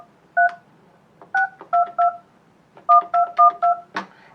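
Keypad dialing on a Yealink T33G desk phone with the handset left on the cradle: a string of about ten crisp DTMF tones in uneven bursts, loud and close, ending with a short click.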